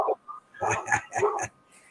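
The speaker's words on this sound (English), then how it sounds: "My dog's barking like crazy" A dog barks in a rapid burst of four sharp barks, fairly close, at someone at the door.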